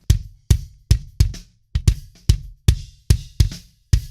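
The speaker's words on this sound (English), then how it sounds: "Let's have a listen to the kick mic." Isolated kick drum microphone track from a mix: about a dozen punchy, deep thumps in a steady, slightly uneven beat, each with a short boomy decay and silence between hits.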